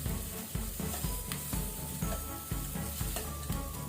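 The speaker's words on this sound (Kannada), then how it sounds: "ಈರುಳ್ಳಿ, ಅನಿಯನ್, ಜಿಂಜರ್, ಶುಂಠಿ ಇದನ್ನು ಸೇರಿಸಿ ಲೈಟ್ ಕೆಂಪಾಗೋ ತನಕ ನಾವು ಫ್ರೈ ಮಾಡಬೇಕು" Chopped onion and ginger fry in a pan for a crab soup, a continuous close sizzle punctuated by regular rhythmic scraping strokes of a spatula roughly every half second.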